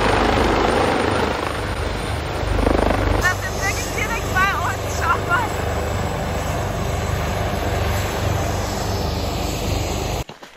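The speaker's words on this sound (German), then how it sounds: "Der Heli hatte nichts mit uns zu tun, wir sind nur ganz schön erschrocken, als der direkt bei uns gelandet ist." A helicopter lands close by near a cliff-top trail, its loud, steady rotor and engine roar dominating throughout while people talk underneath, before the sound cuts off abruptly at the end.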